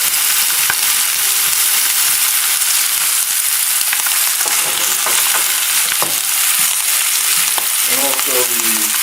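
Shallot, carrot and other vegetables browning in a hot pan for a veal sauce, with a steady loud sizzle throughout, occasional stirring scrapes, and a brief burst of bubbling near the end.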